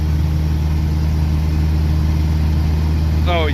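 Steady engine drone of a 1986 Jeep Comanche with a 2.5L four-cylinder pulling in fourth gear, loud and continuous inside the cab, with a brief chirping whine near the end.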